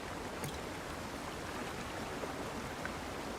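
A waterfall in the fantasy game Avowed, heard as a steady, even rush of falling water filling the background at low level, with no talking over it.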